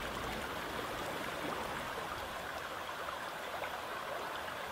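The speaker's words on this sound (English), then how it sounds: "Some of them, like this little creek along Deer Springs Road, put out enough water to flow ice-free all winter long." Spring-fed creek along Deer Springs Road flowing ice-free in winter, a steady broadband rush of running water with soft trickling detail, continuous and fairly close, with no voices.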